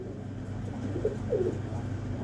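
Pigeon cooing at a breeder's loft, a few soft low coos rising briefly over a steady background hum, no voices.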